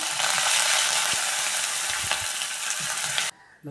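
Curry leaves crackle and sizzle loudly in hot oil while gavar bean and besan curry is made, a dense steady frying hiss with faint stirring clinks that cuts off abruptly near the end.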